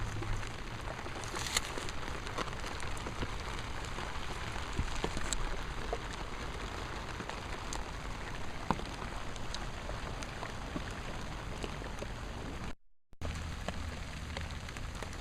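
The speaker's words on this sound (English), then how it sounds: "it's starting to rain harder" Steady rain falls on a garden, a dense continuous hiss of drops with occasional louder splats nearby, broken by a brief dropout near the end; no one speaks.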